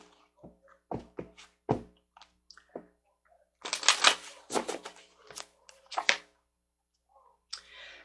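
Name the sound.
drawing tarot cards from the deck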